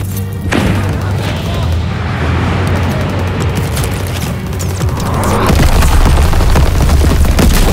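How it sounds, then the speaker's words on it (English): A grenade explodes in Call of Duty WWII combat, a deep booming blast amid continuous battlefield gunfire and rumble, with shouted voices over the din. "Grenade out!"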